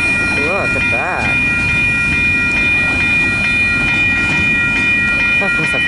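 A short CN freight train runs past on rails with continuous loud rumbling and clattering wheel noise, faint squeals and tonal whines on top, and voices talking over it.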